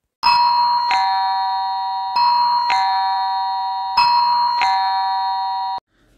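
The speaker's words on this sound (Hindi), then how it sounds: "विद्युत घंटी यानी इलेक्ट्रिक बेल से हम सभी भली भांति परिचित हैं।" A loud two-tone ding-dong chime from an electric bell rings three times in a steady pattern, each tone ringing out clearly before the next, then stopping.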